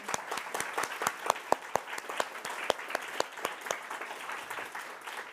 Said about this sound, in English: Extra round of applause for them.